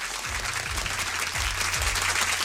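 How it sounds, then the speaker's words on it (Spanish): An audience on a live radio show applauds steadily, a dense close wash of clapping with a low rhythmic thump beneath it and no voices on top. "un gran aplauso y muchas gracias por estar acá"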